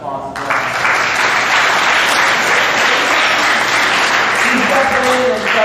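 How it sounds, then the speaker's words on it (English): A crowd at a high school spring sports awards program breaks into loud, sustained clapping that starts abruptly and stays even throughout, with faint voices and a brief tonal sound near the end. "Let's give him a round of applause."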